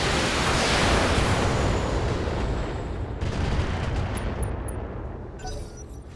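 Long-range missiles fired in the mech combat game BattleTech, a loud, sustained roaring barrage of launches and blasts that thins out and fades over several seconds, with faint tonal game effects near the end.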